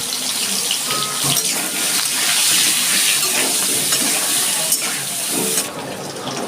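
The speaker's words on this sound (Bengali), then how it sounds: "আমি আলুটা একটু লাল লাল করে ভেজে নেব" Potatoes fry in oil with a dense, steady hiss and crackle, close and fairly loud, with occasional stirring knocks and no speech.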